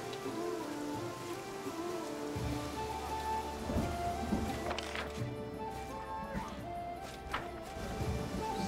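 Steady rain falls with a low thunder rumble in the fantasy role-playing game Pathfinder: Kingmaker, a soft continuous wash with a few faint clicks and footsteps over it.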